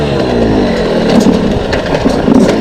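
Yamaha YZ125X two-stroke dirt bike engine buzzing steadily while being ridden on a trail, loud and close with a rising and falling drone.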